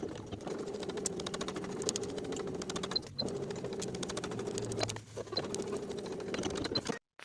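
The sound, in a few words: sewing machine sewing wool jacket sleeve lining closed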